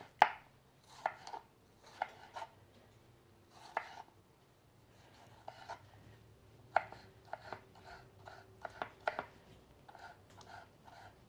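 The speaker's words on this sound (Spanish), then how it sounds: "Ahora ya voy a picar el jitomate" A knife chopping tomato into small cubes on a cutting board, with quick clusters of sharp taps separated by short pauses, close and fairly quiet with no talking.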